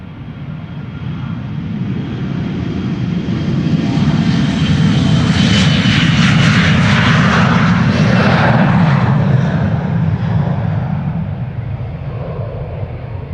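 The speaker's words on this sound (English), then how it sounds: "this is KLM flight 1755 to Hamburg. Embraer 175." A KLM Embraer 175 jet departs Amsterdam Schiphol for Hamburg, its engine roar swelling loud and close as it passes, then easing slightly while staying strong.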